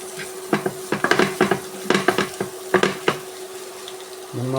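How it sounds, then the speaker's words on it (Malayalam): A spatula scrapes and taps rhythmically against a pan while boiled egg thoran with grated coconut is sautéed over a soft sizzle, with a steady hum underneath and a voice starting at the end. "നന്നായി വഴറ്റിയെടുക്കാം."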